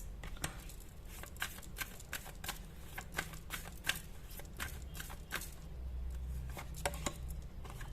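Tarot cards shuffled by hand in a quiet room, a steady run of soft, crisp riffling taps and flicks at close range, with no voice over them.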